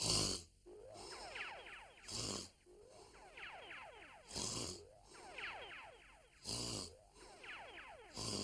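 An animated ninja cartoon character snores in a loud repeating rhythm, each long rasping, wobbling inhale followed by a sharp snort, cycling roughly every two seconds.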